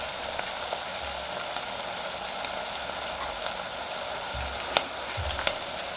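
Sweet potato, cauliflower and onions fry in oil in a pan, giving a close, steady sizzle with a few soft clicks and stirring scrapes and no voices.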